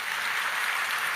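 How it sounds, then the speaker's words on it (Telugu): A church congregation claps together in praise, a dense, even patter of many hands filling a short moment with no talking. "చప్పట్లు కొట్టి దేవుని మహిమపరచు"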